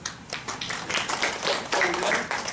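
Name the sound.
audience clapping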